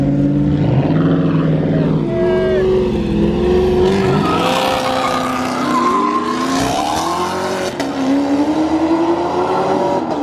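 Loud, close engines rev and roar continuously at a car meet, pitch climbing and dropping as throttles open and ease off, several cars overlapping.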